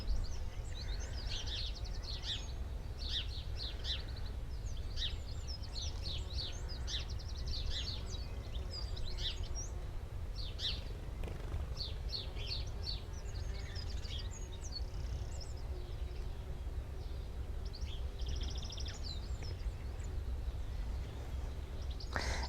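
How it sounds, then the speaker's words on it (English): Many birds chirp and sing through steady outdoor ambience on a sunny UK day, overlapping calls scattered across the whole stretch, with a low background rumble. "we'll listen to the birds again because it's a stunning day here"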